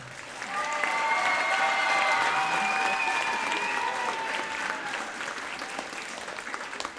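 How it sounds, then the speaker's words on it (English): Sustained applause from an audience at a middle school popular music concert, a dense wash of clapping that swells early, holds steady, then slowly tapers while continuing to the end, with a faint hint of crowd voices and tonal sound underneath. "Please give them one more round of applause."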